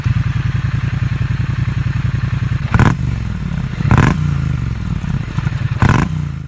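A twin-cylinder motorcycle engine runs loud and close in a fast, even pulsing beat, broken by three sharp clattering knocks.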